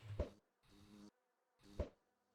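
A bee in Minecraft, played with the All The Mods 10 modpack, buzzes in three short, quiet bursts separated by brief silences.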